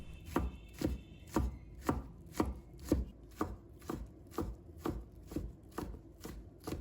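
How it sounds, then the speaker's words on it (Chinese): Knife chopping half a red chili into small pieces on a board, a steady, evenly spaced run of about fourteen crisp, solid thuds at close range. "再准备半个红辣椒，把它切成条。 再切成小粒。"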